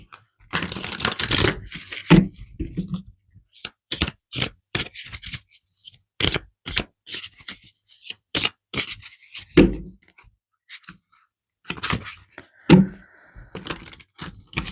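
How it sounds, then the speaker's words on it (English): A tarot deck gets shuffled and cards are pulled by hand, making close, crisp riffles, slaps and snaps in quick irregular bursts with short pauses between them, and no voices. "Let's pull some tarot cards here."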